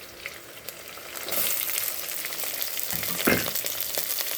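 Chopped onions hit hot oil in a clay pot for a prawn masala, a steady close sizzle that swells louder and crackles about a second in, then keeps hissing with a brief stirring scrape.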